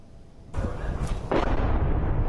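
A hell cannon in Aleppo launching a gas cylinder, with a loud, deep explosive boom followed by a second heavy blast and a rumbling roar that carries on to the end.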